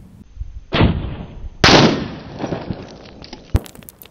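T-91 rifle firing 75-grain rounds at a steel plate or propane can at long range, out to 550 yards: two sharp, loud close shots with ringing decay, followed by a fainter distant crack.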